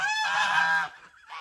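A single loud, drawn-out goose honk up close, followed by a brief lull and the start of another call.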